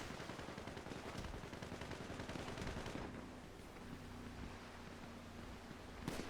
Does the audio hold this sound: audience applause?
no